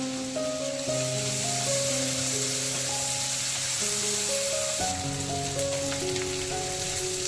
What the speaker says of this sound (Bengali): পেঁয়াজ আর রসুনটা একটু ভেজে নিয়ে